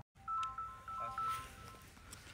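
A mobile phone rings for an incoming call with a short, bright melodic ringtone that plays close by and fairly quietly after a moment of silence, with faint room noise behind it.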